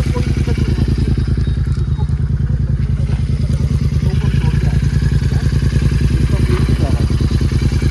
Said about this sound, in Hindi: बहुत बाइक्स आ रही हैं